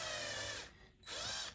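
A drill slowly boring into a Hot Wheels 1967 Chevy C-10 toy truck, a steady close whine that drops out briefly and then resumes.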